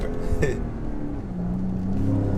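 A Ford Raptor pickup accelerating hard at full throttle, its engine roaring loud and close with a rising pitch that drops at a gear change and then climbs steadily again.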